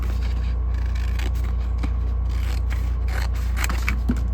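Scissors snip through doll house shelf material in a series of close crisp cuts and scrapes over a steady low hum, with no talking.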